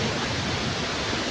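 Steady, broadband roar of a waterfall rushing near a hill fort, a continuous close wash of water noise with no breaks.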